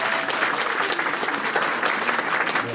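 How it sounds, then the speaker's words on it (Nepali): Guests at a Nepali Christian wedding applauding, a dense, loud burst of many hands clapping close by, steady throughout with faint voices mixed in. "हामी ताली बजाउनेछौँ"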